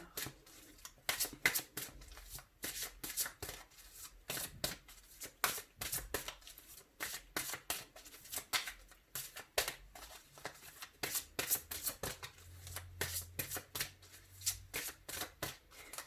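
A deck of tarot cards being shuffled and cut by hand, giving a long run of quick, crisp riffling bursts in an uneven rhythm, close and fairly loud, with no talking.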